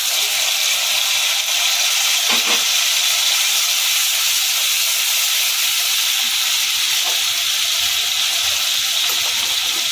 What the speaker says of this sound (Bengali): টমেটো বাটাটা দিয়ে দিলাম।